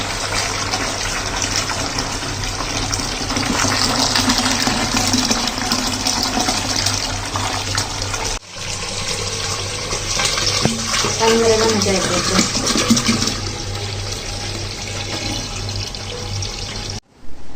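Water gushes steadily and loudly, like a tap filling a tub, with a brief break midway and faint voices beneath.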